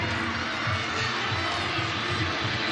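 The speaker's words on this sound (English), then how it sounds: "you hear cheering all around this arena here in North Little Rock" Crowd cheering fills a gymnastics arena in North Little Rock during a college championship meet, with several events running at once; a steady, dense roar of distant voices holds at even level throughout.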